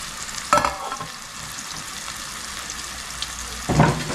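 Masala and other ingredients hit a hot pan for a green cashew (kaju) curry, sizzling and frying with two sharp bursts of stirring clatter near the start and end, close and moderately loud, no talking.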